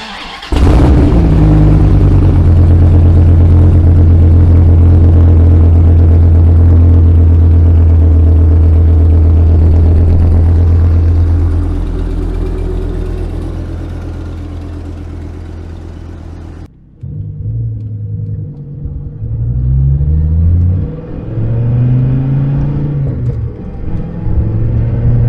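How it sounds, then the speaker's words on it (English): A 2006 Dodge Viper SRT-10 coupe with a T56 manual transmission starts up loud and close, settling into a deep heavy idle rumble, then revving and pulling away with rising and falling engine notes as it is driven. "take the Viper for a spin"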